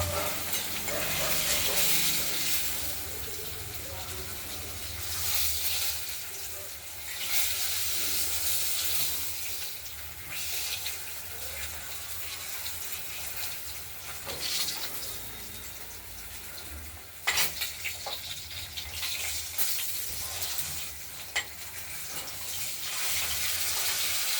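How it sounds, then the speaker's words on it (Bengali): Steady, hissing sizzle of fish frying in hot oil, loud and close, with occasional scraping and stirring clatter and a few sharper crackles. "মাছগুলো ভাজা হয়ে গেছে"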